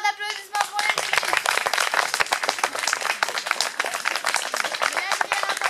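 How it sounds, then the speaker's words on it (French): An audience at a village sketch show bursts into loud, rapid applause, with a voice heard briefly at the very start before the dense clapping takes over and continues steadily. "Un tonnerre d'applaudissements pour les filles."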